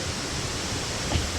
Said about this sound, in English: this is the waterfall. It's beautiful.